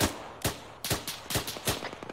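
Gunfire aimed at a house in a multiplayer military video game, several sharp loud shots and short bursts fired in an uneven rhythm, close and dominant with no talk over them.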